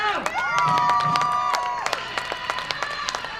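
A crowd in a hockey stadium applauds and cheers as the Czech Republic and Austria women's teams walk onto the pitch, with a voice over the loudspeaker at the start and clapping trailing off into scattered claps.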